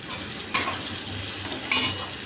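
Potatoes fry in a pan with a continuous sizzling hiss, punctuated by two sharp scraping clinks as they are stirred.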